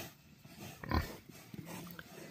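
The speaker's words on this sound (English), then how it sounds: "pigs do really well in the woods" Pigs foraging in woodland on a small pork farm give low grunts and a short squeal, close by and moderately loud, against quiet outdoor ambience.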